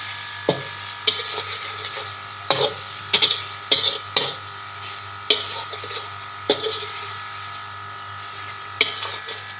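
Peshawari kebabs and garlic fry in a pan with a steady soft sizzle, broken by about a dozen sharp clacks and scrapes of a utensil stirring against the pan.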